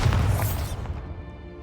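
A Bombarda blasting spell explodes in Hogwarts Legacy, a single loud booming burst that hits at once and decays over about a second with a rumbling tail.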